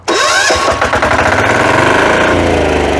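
A Weima walking tractor engine cranks and catches, then settles into a loud, close, steady chugging idle with a rapid mechanical beat.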